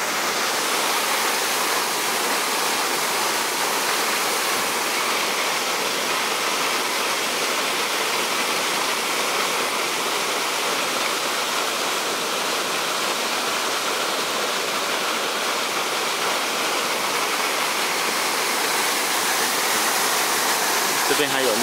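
Small waterfall rushing below a river outlet at the Ailiao River beneath a suspension bridge, a steady broadband roar of falling water that holds constant and close throughout, with no other sounds standing out.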